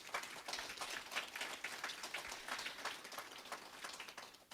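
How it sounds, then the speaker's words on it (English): An audience claps for students at a conference morning session, a soft, dense patter of many hands that sounds faint and somewhat distant, holding steady for several seconds with no talk. "Give them a big round of applause, please."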